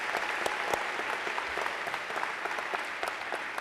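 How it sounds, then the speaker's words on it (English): An audience at a Science Olympiad regional event claps for volunteers, coaches and parents, a soft, fairly distant patter of many hands with a few sharper individual claps standing out over the brief, steady stretch. "I'd like a round of applause for all the volunteers and coaches and parents who made this day possible."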